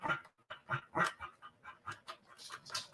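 A hound dog gives a rhythmic series of short, close vocal yelps and grunts, roughly a dozen in three seconds, with no talk.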